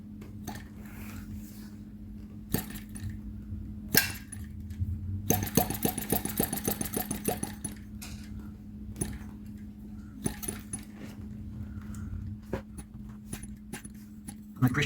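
A tiny 1.6cc model tractor engine fires in rapid bursts, a fast clattering run of a couple of seconds between sparse single pops and ticks, close by in a workshop.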